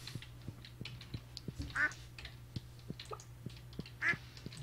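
Duck on a farm in Stardew Valley, two short distinct quacks a few seconds apart over a soft rhythmic thumping background, with no talk.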